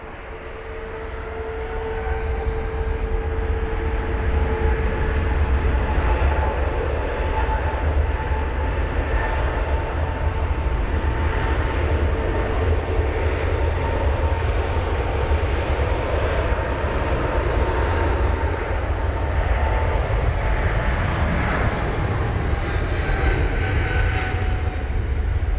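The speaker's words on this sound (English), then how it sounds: "That's off to Los Angeles LAX, flight number BA281 for the Boeing 777-300ER" A British Airways Boeing 777-300ER jet departing Heathrow in wet, spraying conditions, its engines building to a loud, sustained roar with steady turbine whine that fills the whole stretch without a break, no voices.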